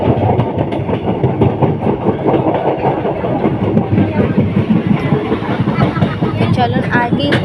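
A passenger train running steadily after leaving Kachna, heard from aboard as a dense, loud rumble with rail clatter and engine drone, with people talking over it.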